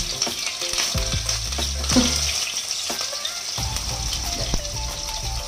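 Ginger frying in a pan for ginger chicken, a continuous hiss of sizzling oil with scattered crackles and pops, close and steady, no talk.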